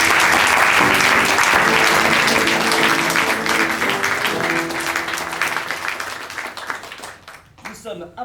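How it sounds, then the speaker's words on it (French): Loud, sustained audience applause for improv performers at an improv festival, gradually thinning and fading out near the end, with voices talking over it partway through. "mes acolytes que je vous demande d'applaudir"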